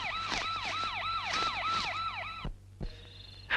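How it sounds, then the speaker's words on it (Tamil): A police siren wails in fast repeating up-and-down sweeps, fairly faint and distant, then cuts off abruptly with a few thumps and a short, quieter electronic tone after. "போலீஸ் போலீஸ் சவுண்ட் கேக்குது"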